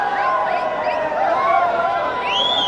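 A busy stadium crowd at an evening cricket match in Dubai keeps up a constant hubbub, with shrill whistles and calls rising over the murmur.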